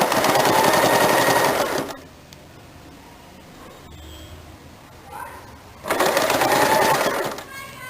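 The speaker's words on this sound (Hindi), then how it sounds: "Match the neck strip with the edges of the neckline this way and stitch to finish." A sewing machine stitches a neck strip onto the neckline of a lined blouse in two loud, steady whirring bursts, with a quieter pause between them.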